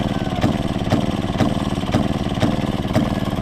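A 1929 Maytag Model 92 washing machine engine, fitted with an exhaust hose, runs steadily after sitting for years, with a loud, even putt-putt of firing pulses about twice a second, close and alone.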